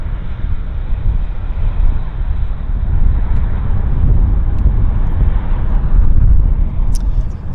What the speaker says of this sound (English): we've got another aircraft on approach